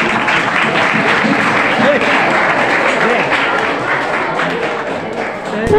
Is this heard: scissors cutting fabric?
no